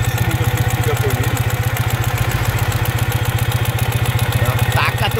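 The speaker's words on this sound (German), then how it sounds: "Wunderschöner Klang. Das ist ja ein Boxermotor, nicht?" A Ural/Dnepr sidecar motorcycle with a boxer engine idles close by in a steady, loud, even low thump, with a voice briefly heard over it.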